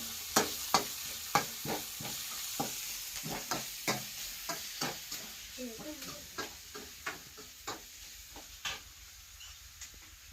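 Onion and tomato stir-frying with salt in a pan, a soft sizzle under a steady run of sharp spatula scrapes and taps against the pan, about one every half second, close and fairly quiet.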